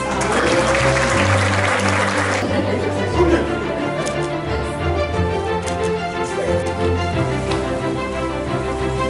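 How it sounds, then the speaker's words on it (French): Audience applause at a French spelling bee championship, dense clapping in the opening seconds that then thins into lighter scattered claps under music and room tone. "est-ce qu'on peut l'applaudir?"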